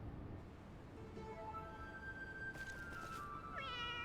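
A cat meowing in the online game Final Fantasy XIV, a few faint drawn-out mews rising and falling over low game background noise.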